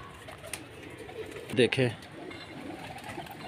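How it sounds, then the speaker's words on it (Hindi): Pigeons at a pigeon club loft coo in a short, clear burst midway, having just fed on grain and water, while someone talks nearby over a low background hum. "नीचे की तरफ कबूतर दाना पानी खा के अभी कुछ मस्ती कर रहे हैं"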